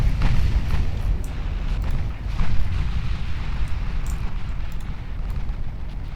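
Battleship main guns fire shells in the naval video game Ultimate Admiral Dreadnoughts, producing a continuous heavy rumble of booming salvos layered together, loud and dense throughout with no talking.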